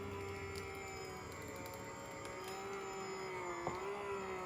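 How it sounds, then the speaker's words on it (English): A quiet, steady mechanical hum with a faint tonal whine from a Sizzix Big Shot Switch Plus electric die-cutting machine feeding material through, with a soft click near the end. "it should automatically start feeding through the machine"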